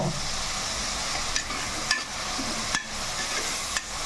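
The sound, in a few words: onions frying with rock salt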